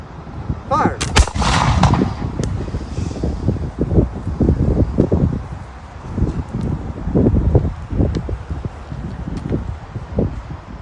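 A volley of black powder muskets fired at a museum demonstration in Savannah, Georgia: one loud, sharp blast near the start, followed by rolling rumble and outdoor crowd and wind noise, with no talking.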